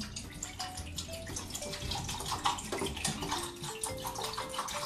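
Liquid developer chemical pouring steadily into a film developing tank, a continuous faint splashing gurgle for several seconds, alone without talk.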